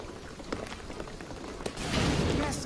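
Rain patters and hisses in a jungle scene of the Shadow of the Tomb Raider video game, with scattered drop taps growing into a louder, denser downpour near the end.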